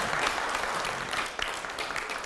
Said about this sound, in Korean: 여러분 이 두 목사님에서 박수 좀 줍시다.